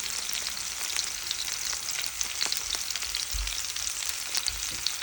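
Bola bola meatballs frying in shallow oil in a pan, a steady close crackling sizzle with scattered sharper pops, continuous throughout with no voices.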